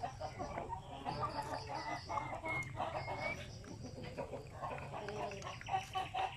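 Chickens on a Filipino poultry farm cluck and chatter, steady and fairly quiet, with scattered louder calls.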